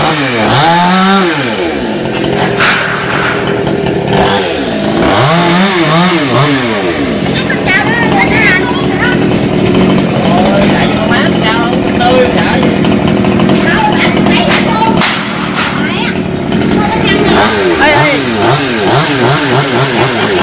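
A chainsaw buzzes and revs in bursts as it cuts small branches from a tamarind tree over 500 years old, loud and close, with people talking in Vietnamese over it.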